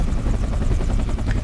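Sikorsky UH-60 Blackhawk helicopter in the X-Plane flight simulator, a steady loud rotor thrum with rapid blade chop and a turbine whine running throughout.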